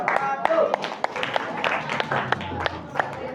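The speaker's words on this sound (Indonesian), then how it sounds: "Oke, kita kasih tepuk." Sharp claps crack out of a classroom at a fairly regular beat, mixed with the chatter of students' voices over a few seconds.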